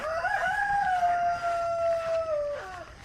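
A rooster crows once, a long drawn-out call with a falling tail, fairly close and clear against quiet background.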